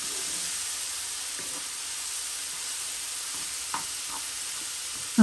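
Ground turkey sizzles steadily in a hot pan where garlic has just cooked, a close, even frying hiss broken by a few faint stirring taps and a sharp clack at the end.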